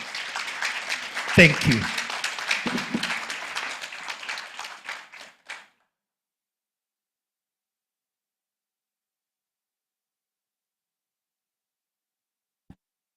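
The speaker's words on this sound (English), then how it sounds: "A very big hand clap to the panel this morning." A conference audience applauds a morning panel: several seconds of dense clapping, with a voice briefly speaking over it, then the clapping fades out and silence follows.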